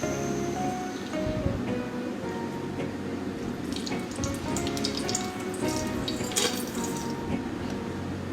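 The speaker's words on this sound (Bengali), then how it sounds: "তেল একটু গরম হয়ে আসলে আমি এখানে গরম মশলাগুলো দিয়ে দিব তেজপাতা এলাচ দারচিনি" Whole spices, bay leaf, cardamom and cinnamon, frying in hot oil in a wok, giving a steady close crackling sizzle with scattered brighter pops, no voices.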